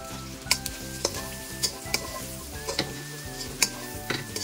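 Pork adobo sizzling steadily in a pan with soy sauce and ground pepper, a loud continuous fry under repeated metal-on-pan stirring scrapes and clinks.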